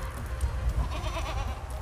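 Farm goats bleat close by in a short burst of calls over a low, steady background.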